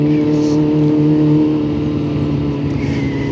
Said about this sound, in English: So we're blipping in and out of the clutch